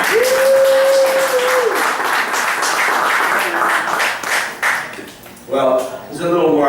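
Audience clapping at a poetry event in Toronto, a dense broadband patter that runs loud and steady for several seconds before thinning out, with a sustained tone at the start and voices rising near the end.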